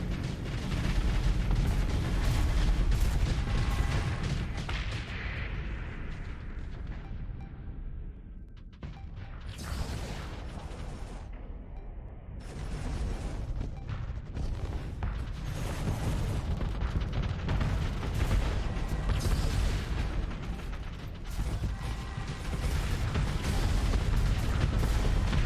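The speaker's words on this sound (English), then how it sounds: "Fire that siege cannon." Heavy siege cannon fire in the space combat game Starsector, loud booming blasts and rumbling explosions rolling one after another over a dense, continuous roar of battle.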